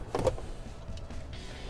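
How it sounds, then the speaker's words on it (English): The power liftgate of a 2017 Toyota Highlander Limited closes with a brief mechanical clunk at first, then a soft, low motor whir that carries on quietly. "that power lift gate will close right on its own"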